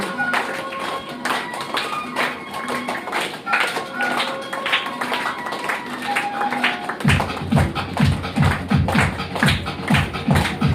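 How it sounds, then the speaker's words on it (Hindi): Children at a summer camp finale clap in a quick, steady rhythm that grows denser and louder toward the end, mixed with scattered taps and shuffling close by. "तालियां बजती रहेंगी"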